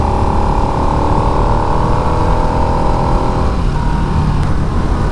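A Harley Davidson Nightster motorcycle ridden on a wet road, a loud continuous close engine drone with tyre and road hiss, holding a fairly even pitch before easing slightly near the end.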